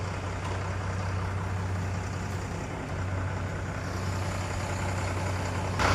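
A parked goods truck idles in a steady low engine rumble with broad road-like noise, close and even throughout, with no talking.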